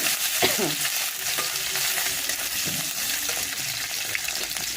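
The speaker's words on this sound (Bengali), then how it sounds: "তার আগে আদা কুচিটা দিয়ে দেবো, লঙ্কা কুচিটা দিয়ে দেবো, একটু হালকা নেড়ে নেব।" Chopped ginger and chilli frying in a pan while being stirred for a vegetable Maggi dish, with steady close sizzling and soft scraping strokes throughout and no speech.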